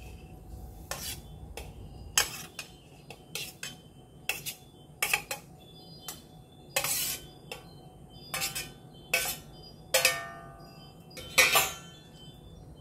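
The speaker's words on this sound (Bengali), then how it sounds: "ভেন্ডিগুলো দিয়ে দেওয়ার পর আবারও মশলার সাথে ভালো করে মিশিয়ে নিচ্ছি।" Fried okra is stirred with spices in a pan for a vegetarian ladies' finger dish, a spatula scraping and clinking against the metal in about a dozen separate strokes, close and fairly crisp over a quiet background.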